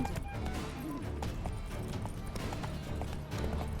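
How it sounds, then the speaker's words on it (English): Hooves pound in a fast, continuous gallop during a horse race in the game Witcher 3: Wild Hunt, set in Toussaint, loud and close over a busy background of game ambience. "Faster, Geralt! Right like the wind!"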